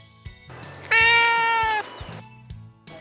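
A cat gives one long, loud, clear meow close by, framed by quieter rustling and handling noises before and after.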